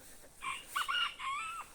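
A newly acquired crested hen lets out a single close, drawn-out crowing call in three rising and falling bursts over a quiet background, with no talking.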